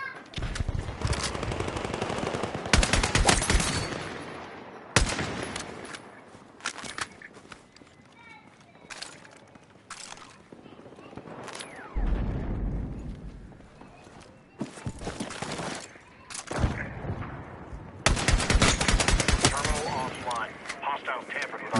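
Bursts of automatic gunfire and single shots in the video game Battlefield 6, loud and close, with heavy volleys separated by quieter gaps and footsteps, while a player talks over the action.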